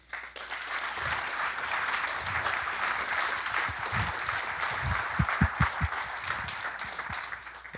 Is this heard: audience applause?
yes